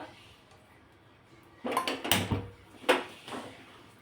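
A kadhai being set down on a gas stove, a few close metallic clunks and rattles after a quiet start, with a sharp knock near the end.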